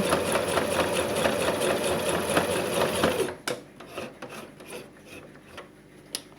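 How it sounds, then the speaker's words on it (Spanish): Sewing machine running steadily as it stitches a side zip pocket, a dense continuous whirr for about three seconds, then stopping, leaving faint scattered rustles and handling clicks of fabric. "Y cosemos hasta la línea que habíamos marcado con jabón para que los dos recortes nos queden a la misma distancia."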